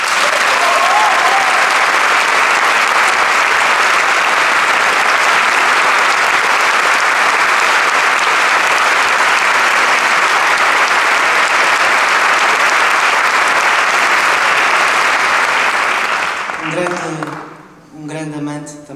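A concert audience applauds a pianist in sustained, loud, dense clapping that holds steady before tapering off near the end, where a voice begins speaking.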